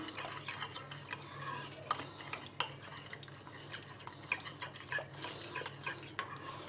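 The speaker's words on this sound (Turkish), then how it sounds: "İyice karıştıralım onu." A utensil stirs and scrapes through a meat sauté mixture in a bowl, with irregular soft clinks and taps close by, no talking.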